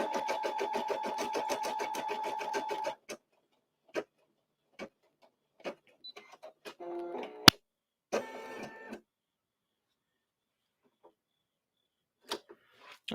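An embroidery machine stitches in the hoop with a fast, even mechanical tapping for a few seconds, then falls mostly quiet apart from scattered clicks and brief whirs.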